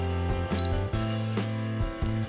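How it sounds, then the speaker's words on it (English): A short electronic chirping sequence as a phone pairs with a Digoo BB-M2 IP camera: rapid high beeps warbling over a steady low hum, ending in a couple of fainter blips. "That sound was the communication between your phone and the camera."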